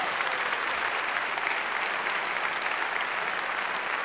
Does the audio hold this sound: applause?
yes